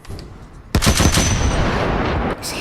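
Pancor Jackhammer automatic shotgun blasting in Fallout 4, a loud sustained burst of rapid shots that starts abruptly after a quiet lead-in and cuts off sharply near the end.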